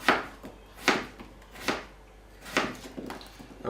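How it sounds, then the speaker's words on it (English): A knife chops through raw potatoes onto a cutting board, five dull knocks spaced unevenly, fairly quiet and close. "So just chopping them up like that."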